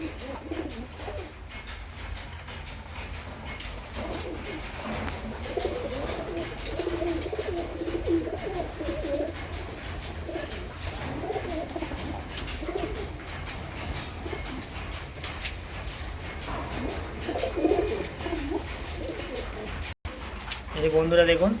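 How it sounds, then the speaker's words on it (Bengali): Male pigeons cooing and scuffling as they fight after release, a steady murmur of low coos and flutters close by, with a voice speaking over them. "এই যেমন নর পায়রাগুলো দেখুন কেমন মারপিট করছে"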